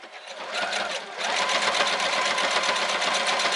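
A Brother RX3340 sewing machine stitches steadily at medium speed, its rapid needle clatter loud and close, running continuously after a brief start.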